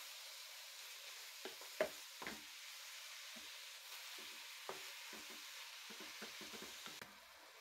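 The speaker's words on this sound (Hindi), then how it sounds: "साथ ही इसमें लहसुन अदरक का पेस्ट डालना है। दोनों चीजें अच्छी तरह फ्राई हो जाएं।" Ginger garlic paste fries quietly in a pan for keema, a faint, soft sizzle with scattered light stirring scrapes and taps.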